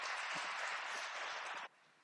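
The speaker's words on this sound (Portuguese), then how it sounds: "Vamos aplaudir ao Senhor, irmãos" Church congregation applauding, a dense steady wash of clapping that cuts off abruptly near the end.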